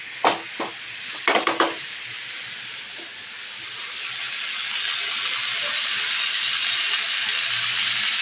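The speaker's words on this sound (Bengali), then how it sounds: "এবার এই সবজিগুলোকে আমি একটু অল্প অল্প করে ভেজে নেব প্যানে।" Chunks of pumpkin, Malabar spinach and potato frying in a pan: a few sharp clicks of a utensil at first, then a soft hiss that slowly swells and stays steady.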